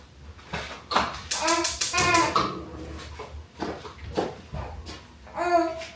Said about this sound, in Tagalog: Sasalita na aming baby, guys.